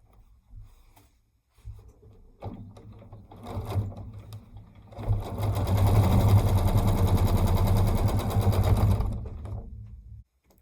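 A domestic sewing machine stitches through a quilt. Brief bursts of stitching build into a long, loud, steady whir of rapid needle strokes up close, then stop abruptly.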